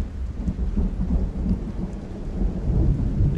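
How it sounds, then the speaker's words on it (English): In the video game Project Zomboid, a heavy thunderstorm roars on, with booming low thunder rolling under a constant wash of pouring rain, loud and unbroken, with no one speaking. "There's a very loud storm."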